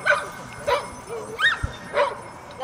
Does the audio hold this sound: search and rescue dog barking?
yes